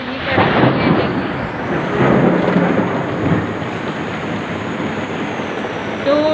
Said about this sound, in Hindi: अभी बरसात और बिजली इतनी कड़क है